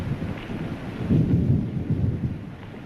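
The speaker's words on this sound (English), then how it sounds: "Look, rain. So it's the usual summer shower." Summer rain shower with thunder rolling through it: a steady, low, rumbling roar that swells in the middle and eases toward the end, with no voices.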